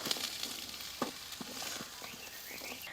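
Five finely chopped large onions frying in a pan for chicken samosa filling, a soft steady sizzle with a few light scrapes of a spoon, fairly quiet and close, no voices.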